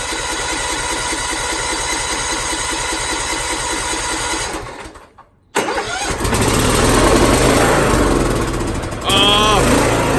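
A motorcycle engine that sat for four months runs loudly up close, cuts out briefly, then cranks and cold-starts, settling into a steady, rough idle.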